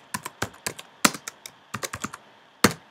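Text being typed on a computer keyboard, a close, irregular run of crisp key clicks in quick bursts with short pauses between them.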